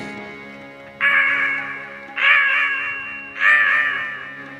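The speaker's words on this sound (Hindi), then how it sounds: "आप कौवे की आवाज सुनेंगे।" A crow caws three times in a steady rhythm, each call loud, harsh and drawn out, close by with no talk over it.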